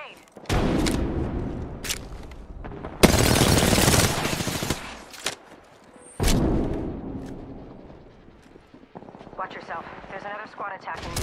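Gunfire in the video game Apex Legends comes in several loud, dense bursts of rapid shots with booming hits, broken by gaps. Game voice callouts can be heard between and under the shooting.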